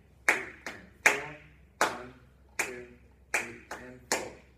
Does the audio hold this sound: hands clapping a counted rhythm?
yes